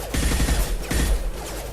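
A short burst of rapid gunfire from the Mass Effect 2 sci-fi shooter, sounding as a couple of quick close volleys.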